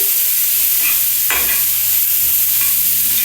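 Spices with turmeric being stirred in a pan over a low flame, giving a steady soft sizzle with a few brief scraping strokes of the spoon against the pan, close and continuous.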